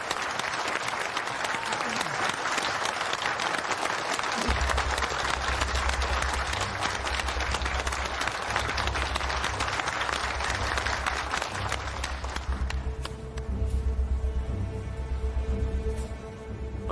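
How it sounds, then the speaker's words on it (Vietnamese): Warm audience applause in a dance hall welcoming a violinist's first performance, a sustained dense wash of clapping, with low instrumental music entering underneath and continuing as the applause thins. "Tất cả mọi người cho một tràng pháo tay nhiệt liệt chào đón buổi biểu diễn đầu tiên của cô ấy"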